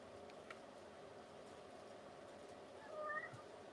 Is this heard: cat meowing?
yes